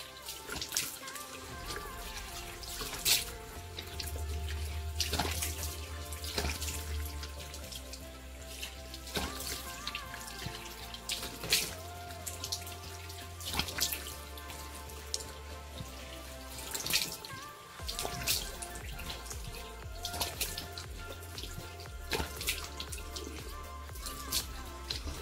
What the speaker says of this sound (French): je vais laver avec un peu d'eau tiède